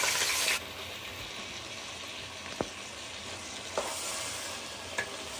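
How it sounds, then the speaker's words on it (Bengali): Mashed olives sizzling in oil for a pickle, a constant frying hiss after a brief louder burst at the start, with a few sharp utensil taps on the pan, close and without voices. "আমার জলপাইটা তেলের সাথে ভালো করে ভাজা ভাজা হয়ে গেছে।"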